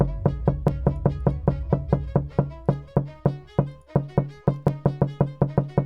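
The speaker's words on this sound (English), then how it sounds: "Now that knocking noise that we just heard was part of market pulse." Knocking alert from Market Pulse trading audio: a rapid, even train of sharp wooden knocks, about four per second, loud and close, each with a short decaying ring, running steadily with no voices.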